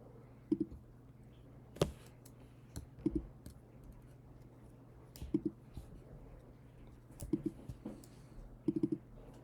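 Mouse clicks in QGIS, a sparse series of sharp, close, fairly quiet clicks at uneven intervals, some in quick pairs, over a low steady hum with no talking.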